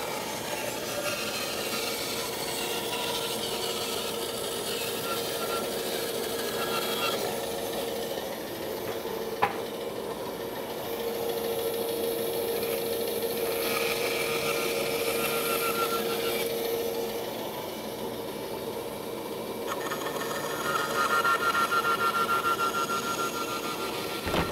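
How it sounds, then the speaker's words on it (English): A bandsaw cuts through hard maple as a dust collector runs, giving a steady, continuous mechanical whir with a faint hum that rises and shifts in spots, close by and with no talking. "So, dust collector on, because the bandsaw is dusty. Sculpt it free and then"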